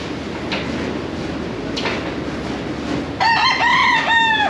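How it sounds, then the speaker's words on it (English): A rooster crows loudly near the end, after a stretch of ambient noise with a couple of soft sliding thumps, in a Mexican market where roosters are kept in boxes. "there's roosters in these boxes."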